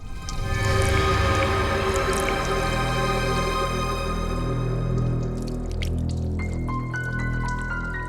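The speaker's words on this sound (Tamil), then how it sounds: "பாத்ரூம்ல தண்ணி போற சத்தம் கேக்குது." Water runs continuously in a bathroom, a steady splashing flow with drips and trickling, heard close and fairly loud for the whole stretch with no talk over it.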